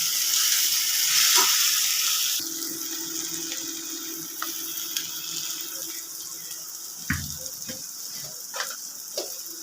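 Tempering spices sizzle and fry in a pan while pumpkin kofta curry is being made. The hiss is loud at first and eases after a couple of seconds into a steady crackle, with a few scattered clicks and stirring knocks.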